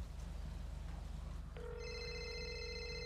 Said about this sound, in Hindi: फोन आ रहा है, काट दोगे?